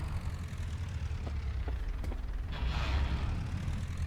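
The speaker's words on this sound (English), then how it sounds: "Those gears do not sound happy." Strained tractor gears in the Farming Simulator 25 game, a low continuous mechanical grind with a few creaking ratchet-like clicks and a rising harsher whine toward the end, fairly quiet.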